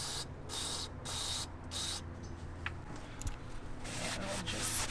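Electrical contact cleaner sprayed onto a sensor on a BMW E90 328i N52 engine after a valve cover gasket job: several short, close hissing bursts in a row, followed by softer rubbing and handling noises.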